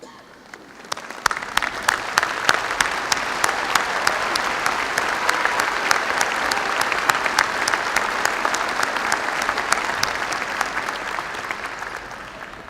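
An arena audience at a December 2018 NKU commencement applauds the new alumni, a loud, sustained roar of many hands that rises quickly, holds steady for about twelve seconds, then begins to thin toward the end.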